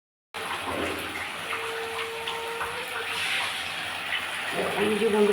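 Water poured into a pan of frying lentils with potatoes makes a steady, close gushing rush that starts abruptly and keeps going, swelling slightly toward the end.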